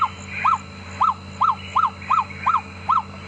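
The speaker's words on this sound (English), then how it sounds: "Another one of my favorite calls is the freckled nightjar." A freckled nightjar's call played from a recording during an evening game drive at Djuma Game Reserve: a steady series of about eight sharp, dog-like yapping notes repeated at an even, brisk rhythm, loud and clear against a quiet background.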